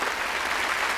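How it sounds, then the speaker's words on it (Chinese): A studio audience on a job-seeking show claps for an applicant, a brief dense burst of applause heard alone. "我们再次给我们的求职者一点掌声哈"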